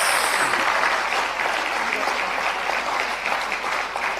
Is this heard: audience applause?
yes